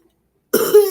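A person imitating a dog's cough, one short, sharp, close, harsh burst with a throaty rasp.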